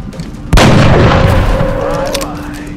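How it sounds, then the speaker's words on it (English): Heavy gunfire in a video game, a sudden loud boom followed by a long rumbling roar and decaying echo, close and dominant, with a voice faintly underneath. "There's heavy fire in the zone."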